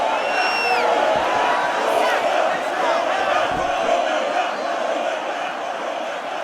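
A capacity arena crowd in the EA Sports UFC 6 video game, for a flyweight bout between Kai Asakura and Brandon Royval, roars and cheers steadily throughout with a few whistles near the start.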